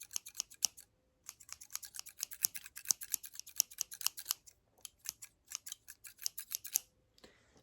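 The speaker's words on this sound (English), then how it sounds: "So there's some sideburns here with the scissors." Scissors snip quickly and repeatedly while trimming sideburns during a haircut, close crisp clicks in bursts with a brief pause between runs, no talking.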